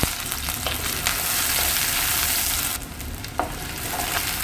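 Onions with fenugreek, fennel and green chillies sauté in sesame oil in a clay pot. Sharp sizzling and crackling run throughout, with occasional scraping stirs, and the sound briefly softens near the end.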